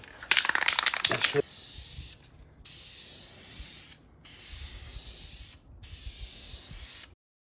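Aerosol paint spraying a final coat onto Nissan Frontier engine parts, a loud rattling shake followed by three long hissing bursts, each separated by brief pauses, close by and alone.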